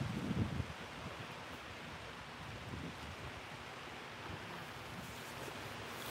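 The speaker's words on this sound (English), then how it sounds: "Oh, the waves are quieter today because they're further back." Ocean waves washing on a shore on a calm day with the surf set further back, a soft steady wash with a brief louder swell at the start and light wind noise.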